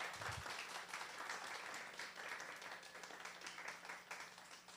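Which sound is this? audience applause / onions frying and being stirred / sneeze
audience applause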